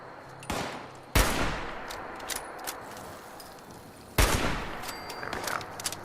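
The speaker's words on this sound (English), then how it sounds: "I'm currently just using this hunting rifle because not only is this leveled up decently, but I have some ammo for it" Hunting rifle gunfire in the video game Fallout 76: several sharp, loud single shots spaced seconds apart, each with a ringing tail and game ambience between them.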